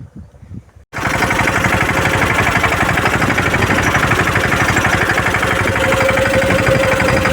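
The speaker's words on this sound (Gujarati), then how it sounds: "જોઈ શકો છો આપણું સ્ટીલ ટ્રેક્ટર" A Steeltrac tractor engine starts up loud and close after a second of near silence, then runs steadily with a rapid, even diesel chugging that continues without a break through the rest of the clip.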